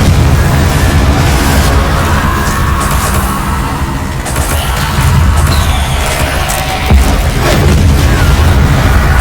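Confringo fire spells from the video game Hogwarts Legacy go off as loud, booming blasts, with repeated crashing bursts layered over a dense, rumbling battle din across the whole stretch.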